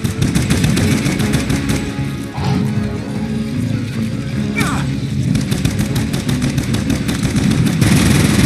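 Base turret guns in an EDF game fire rapid, steady bursts of loud automatic shots, mixed with explosions and battle noise, and a voice talks over the gunfire.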